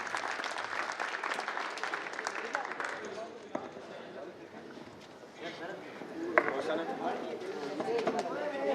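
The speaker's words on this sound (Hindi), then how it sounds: "तालियों से इस्तकबाल कीजिएगा" Applause greeting a speaker at a 2020 farewell function, a steady wash of clapping with audible chatter mixed in, a brief lull midway and then the clapping swelling again near the end.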